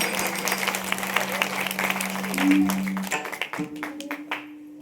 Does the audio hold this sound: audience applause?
yes